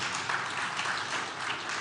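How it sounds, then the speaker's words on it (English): An audience claps steadily and densely throughout, a continuous wash of applause with no pauses or talking. "As you're clapping"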